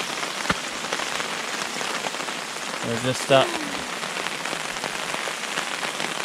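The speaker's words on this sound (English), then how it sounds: "in camp and it's pouring rain." Heavy rain pours steadily onto a wilderness camp on a Yukon canoe trip, a dense, continuous patter close by, while someone speaks briefly partway through.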